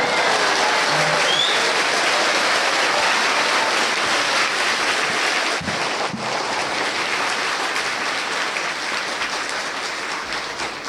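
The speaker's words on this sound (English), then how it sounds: "Even though you heard the story again, you clap like first time." An audience bursts into sustained applause after a storyteller finishes, a dense, loud wash of many hands clapping that tapers off slightly toward the end.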